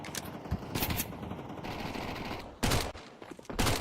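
Automatic fire from a Galil rifle mixed with USP pistol shots during a competitive round of a tactical shooter video game, sharp bursts and single cracks over a steady bed of game ambience, with louder volleys near the end.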